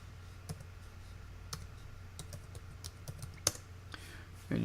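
Login password typed on a computer keyboard: soft, scattered key clicks at an irregular pace over a low steady hum, fairly close and quiet, with no talk.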